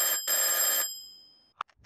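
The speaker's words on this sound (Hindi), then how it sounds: "चाचा चौधरी के घर पर टेलीफोन बजता है।" An old-style telephone bell rings in a Hindi comic cartoon at the home of Chacha Chaudhary, two bright, rattling rings that cut off and ring out, followed by a few faint small clicks.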